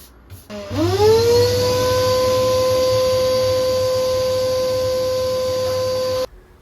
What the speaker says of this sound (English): Oak's a hard wood, so it took a lot of sanding using a belt sander